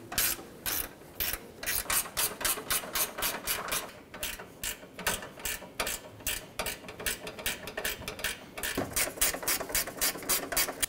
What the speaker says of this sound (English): Using a 10 millimeter socket, go around and remove the six bolts out of the upper radiator support.